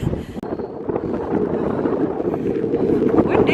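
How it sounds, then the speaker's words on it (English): Strong wind buffets the microphone on an exposed hill along the Heysen Trail, a loud, continuous rumbling gust that builds steadily with no voices. "Windy."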